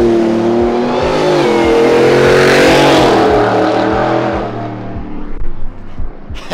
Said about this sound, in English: there is absolutely nothing compared to that supercharged whine and that V8